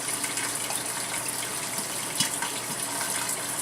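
Liquid pours steadily as half a cup of wine goes into a pot of marinara sauce, a continuous close splashing trickle with one small clink partway through. There is no talking.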